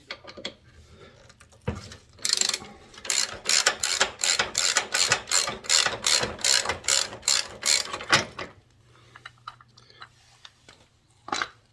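A hand ratchet backs out a 5/16 hex bolt from a Harley Davidson footrest step, giving a close, loud run of about fifteen rapid clicks in steady rhythm, then stopping.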